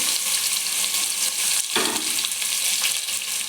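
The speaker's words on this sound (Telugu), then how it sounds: "ఆనియన్స్ ముక్కలండి. ఇవి బ్రౌన్ కలర్ వచ్చేదాకా మనం వేయించాలి." Onion pieces fry in hot oil in a pan, a dense, bright, continuous sizzle close up with a soft stirring disturbance partway through.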